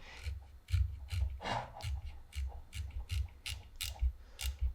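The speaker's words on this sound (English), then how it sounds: "try screwing it back and forth, and it will be very tight." A tight metal thumbscrew is turned back and forth by hand, giving a steady run of short ratcheting, grinding clicks in an even rhythm, close up and fairly quiet, with no talking.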